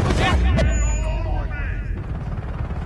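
A single heavy gunshot from a sniper-capable rifle booms in Battlefield: Bad Company 2 Vietnam, followed by a long rolling echo and distant battle noise, with a voice talking over it.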